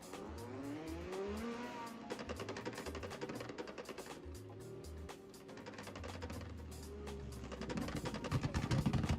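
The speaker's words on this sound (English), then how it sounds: "I'm hearing some backfire." Drift cars at Tsukuba during an ESDA World Championship prelim, engines revving loudly with sharp popping backfire crackles and tire noise, continuous and close.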